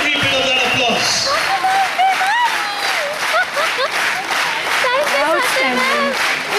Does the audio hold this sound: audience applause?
yes